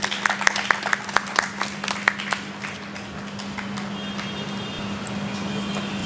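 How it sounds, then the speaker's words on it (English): Sparse, distinct hand claps from a small literary audience for a poet at a Mumbai arts festival, a handful of sharp claps near the start that soon thin out, leaving a steady hum and room noise. "Let's give a big round of applause to Anjali Purohit."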